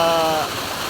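Spring water flowing steadily, a continuous close wash of splashing and gurgling with a faint tonal ring fading in the first half.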